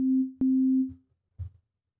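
A pure sine tone from an Ableton Operator FM synth holds steady at a low-mid pitch, broken by a brief click, then fades out, followed by a faint low blip.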